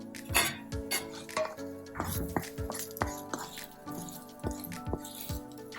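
Fried onion is scraped from a pan onto a plate with a metal spoon, a run of close bright clinks and knocks in an irregular rhythm, with no talking.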